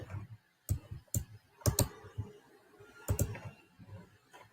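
Fingers tapping a computer keyboard in short, uneven bursts of close clicks with brief pauses between them, heard alone in a quiet room.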